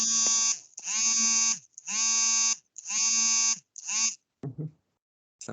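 A buzzing alarm sounds in four long, loud, harsh bursts of nearly equal length with short gaps between them, followed by a shorter burst and a few brief broken fragments, close and with no talking.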